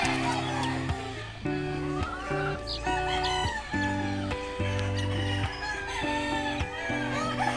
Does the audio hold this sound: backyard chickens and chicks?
yes